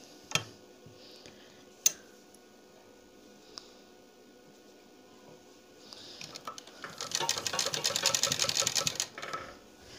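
Burst of rapid mechanical stitching from a sewing machine running on suit fabric for a new neck design, starting after a few quiet clicks and handling noises and growing loud and steady for about three seconds before stopping.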